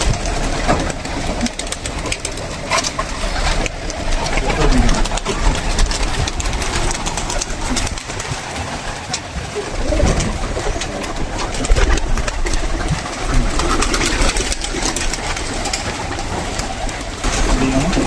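Pigeons in a village loft in Singair, Manikganj, flutter and coo while being fed paddy, wheat and cracked maize, a steady busy wash of birds with engine-like rumble underneath and a few faint voices.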